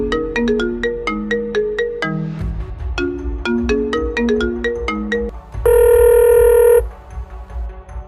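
A mobile phone ringtone plays loud and close, a bright repeating electronic melody of plucked notes that ends in a sustained high chiming tone before stopping.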